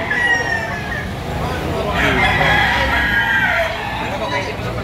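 Many chickens and roosters at the Lipa Auction Market in Batangas: a drawn-out rooster crow rises over a dense, noisy backdrop of clucking birds and crowd voices.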